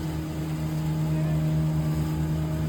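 A boat engine runs steadily with a constant droning hum and tonal whine, loud and close throughout, with no noticeable change in pitch or rhythm.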